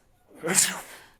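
A single short sneeze, a quick breathy burst that peaks sharply and fades within a second.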